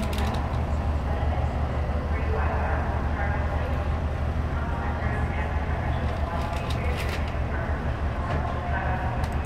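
Amtrak passenger train 352, the Wolverine, departs with a continuous low rumble and rolling rail noise, while muffled voices carry underneath.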